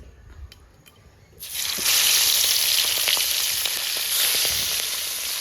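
Shrimp dropped into hot oil after pointed gourd: quiet at first, then a sudden loud sizzle erupts and holds steady with crackling pops throughout.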